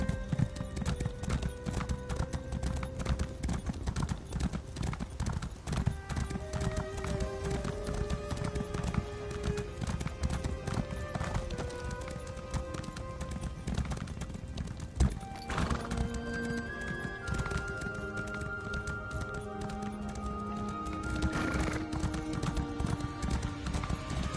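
Rapid, steady clip-clop of hooves galloping in The Elder Scrolls Online, with a horse whinnying now and then, all set against a dense layer of game music and effects.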